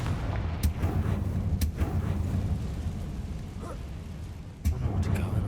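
Confringo fire spell blasts cast in the video game Hogwarts Legacy, a few sharp booming bursts over a dense, rumbling game soundscape, with a louder hit near the end.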